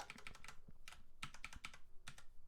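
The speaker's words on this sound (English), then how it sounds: "I'm hitting the wrong keys." Quick bursts of keystrokes on a computer keyboard while working in music software, close and crisp, in irregular clusters with short pauses, no voices.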